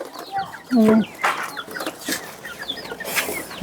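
Chickens cluck and squawk in short bursts around a home yard, several calls overlapping at close range while people talk over them.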